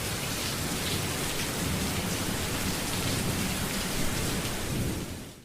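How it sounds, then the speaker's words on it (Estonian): Steady heavy rain pours in a cartoon about a red car, a dense, even hiss of falling drops that holds loud throughout and fades out at the very end. "Varsti oli taevas pilvine ja siis hakkas vihma sadama."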